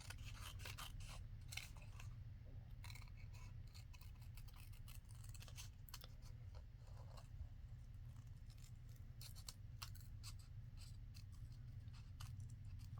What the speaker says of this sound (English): So I just cut around it and cut it out.